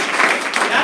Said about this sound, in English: So give you a round of applause.